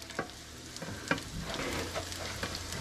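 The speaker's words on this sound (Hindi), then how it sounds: "इनको आपने 5 मिनट तक हल्की आग में पकने देना है।" Potato chapli kababs frying in a pan over low heat, giving a continuous soft sizzle and crackle close by, with a few faint clicks and no voices.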